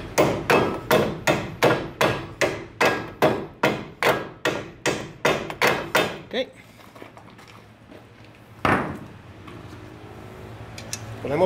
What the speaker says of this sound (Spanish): Le damos un golpecito para que entre.